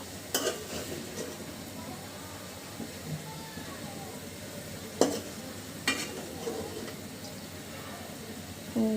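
Katla fish simmering in a ripe tomato gravy in a pan, a low steady sizzle with occasional sharp clinks of a spoon stirring against metal, heard quietly beneath a talking voice.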